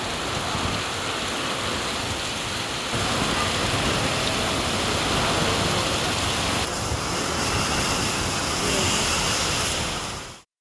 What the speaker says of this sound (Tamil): தேனி மாவட்டம் பெரியகுளம் பகுதியில் பலத்த காற்றுடன் கூடிய கனமழை கொட்டி தீர்த்தது.